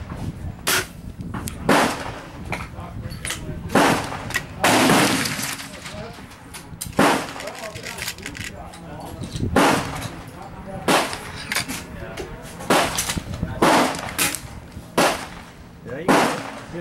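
Hatsan 135 .25 caliber air rifle firing outdoors at targets out to 100 yards, a series of sharp cracks spaced a second or two apart, loud and close, with people talking between shots.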